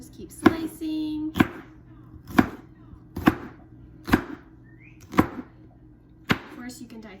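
A knife slices vegetables on a cutting board for a Greek pasta salad, eight sharp, fairly evenly spaced chops standing out clearly, with only a faint voice in the background.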